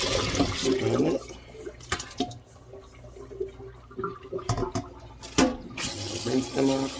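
Water runs and splashes through a kitchen strainer holding freshly washed dandelions, a steady sink-like pour with louder gushes near the start and end, close by.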